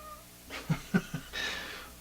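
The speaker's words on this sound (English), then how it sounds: "my cat wants to play with me all the time, it seems" A cat meows a few times close by, short separate cries followed by a longer drawn-out one, in a quiet room with low background hum.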